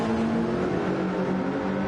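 A quick race car from a Le Mans multiclass endurance race in a racing video game drones past at a steady, continuous engine pitch, fairly loud and alone with no talk.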